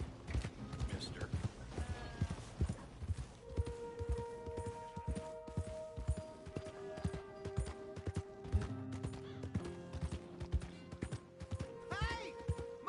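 Horse hooves clip-clop in a steady walking rhythm in Red Dead Redemption 2, with game-like chimes and tones, plus a brief whinny near the end.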